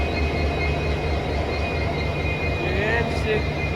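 A train hauled by a WDG4 diesel locomotive rumbles steadily and loudly throughout, with a continuous low engine drone, a thin high whine and a faint squeal near the end.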